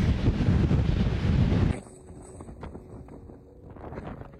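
Strong wind gusts batter the microphone at about 4200 metres altitude near Ojo del Mar, a loud roaring buffet that cuts off abruptly partway through and leaves quieter, fluttering wind behind.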